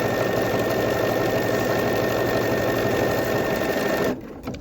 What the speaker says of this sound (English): because I told the machine the size of the buttonhole, it's doing the whole thing from start to finish